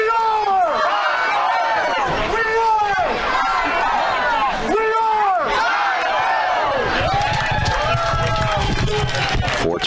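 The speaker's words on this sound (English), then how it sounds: "the Tyrone Golden Eagle fans have something to cheer about" Tyrone Golden Eagle fans at a varsity high school football game against Bellefonte cheer and whoop after a game-tying field goal, a loud sustained crowd roar with rising and falling shouts and voices talking throughout.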